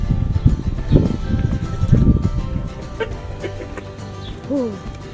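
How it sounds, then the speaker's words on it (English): A chicken clucks in a series of short, uneven calls, fairly close and moderately loud, with a brief rising squawk near the end over a quiet room background. "chicken."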